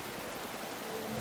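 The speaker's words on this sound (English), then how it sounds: "Still raining." Steady, even hiss of rain in the Ride 6 motorcycle racing video game, a continuous wash of falling water at constant loudness with no talk.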